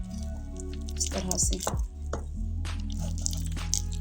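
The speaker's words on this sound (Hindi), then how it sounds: "बस मुझे इसको अच्छी तरह से इस तरह से मिक्स कर लेना।" Chocolate donut batter made with egg being mixed by hand, giving soft wet squishing and scraping strokes in a quiet kitchen.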